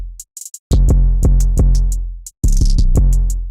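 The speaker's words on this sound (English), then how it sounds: "I actually went into the hi-hat and I drew in this 1/3 triplet pattern that sounds like this." Hi-hat clicks in a rolling triplet pattern over deep, booming 808 bass hits in a trap-style beat, the crisp ticks repeating steadily above the sustained low thumps, with a brief gap before the pattern restarts.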